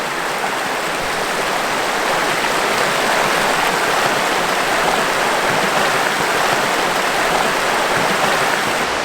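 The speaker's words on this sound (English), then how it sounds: "This is the Black River. It's about 20 yards from our tent." The Black River in the wilderness, about twenty yards from a tent, flows in a loud, steady hiss and rush of water that stays even from start to finish without any voices.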